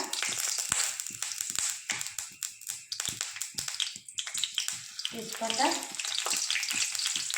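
Bay leaves and whole cumin seeds sizzle and crackle in a little hot oil in a pan, a steady bright frying hiss with scattered pops and a few stirring taps, close and fairly loud with no talking.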